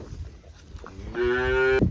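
A single loud, drawn-out moo from a nearby buffalo, following a few seconds of faint background noise.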